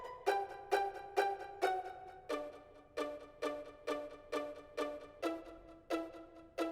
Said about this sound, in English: I added the piss staccato strings